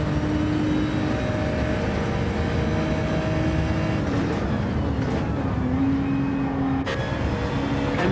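A V6 Genesis race car drives at Monza during a two-hour endurance race, its steady engine drone holding loud and continuous with shifting pitch as it passes.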